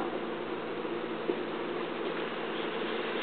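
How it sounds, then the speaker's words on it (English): Honeybees buzz steadily around an open beehive during a school demonstration, a close, continuous hum that stays even throughout with no voices. "We'll have to see if I can get this bee out."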